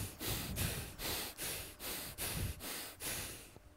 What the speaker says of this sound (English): Begin breathing in and out of your nose.